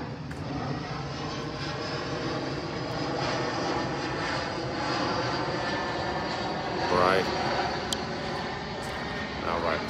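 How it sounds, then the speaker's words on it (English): An airplane passes overhead near a dock, giving a steady, broad engine roar that stays loud for the whole stretch, with faint background noises mixed in. "Planes are coming through here."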